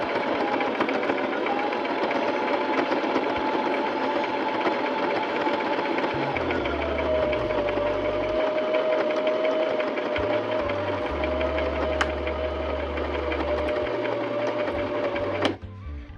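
A sewing machine stitches steadily through a quilted roll-top bag, its fast even whirr running close and continuous, with a slower low motor hum that changes pitch as the speed varies before stopping near the end.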